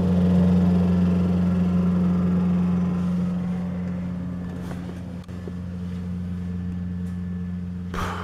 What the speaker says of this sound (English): the fucker below just started up a mower